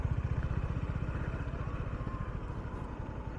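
A 2022 Honda CB350RS motorcycle engine idles nearby with a low, steady, rapid thumping pulse that slowly eases off.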